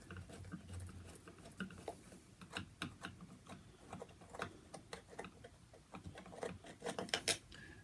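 A 3.5mm rethreading tool worked through the screw thread of an electrical socket, giving close, quiet clicking and scraping ticks in an uneven rhythm throughout.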